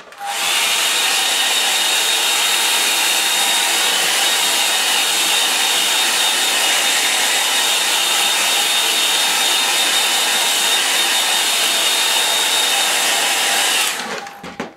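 A hair dryer blows over a watercolour painting of a sunrise at Seven Islands, giving a loud, steady, close whoosh that runs for about fourteen seconds before it clicks off.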